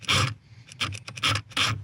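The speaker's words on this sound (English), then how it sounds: "I will go back with a regular screwdriver in my hand and I'll just tighten it" Repeated rasping, scraping strokes of a screwdriver tightening a screw at close range, five bursts in an uneven rhythm with short pauses between them.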